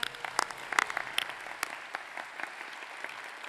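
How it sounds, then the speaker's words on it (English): Light, scattered applause from a small group at SIGGRAPH Asia 2023 Real-Time Live, a few sharp claps up front that thin out into a soft patter. "a round of applause to yourself"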